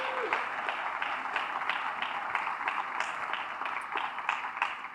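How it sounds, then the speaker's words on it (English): Sustained audience applause fills a firefighters' awards banquet hall in Edinburg, honoring the fire chief, a steady dense patter of many hands clapping with faint voices underneath. "How about another round of applause for Fire Chief Omar Garza"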